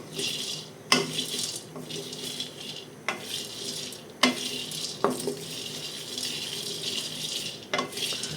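Spices for a sweet fishing bait being dry-fried in a kadai, with a steady soft sizzle and hiss broken by several sharp scrapes and clinks of a spatula against the pan.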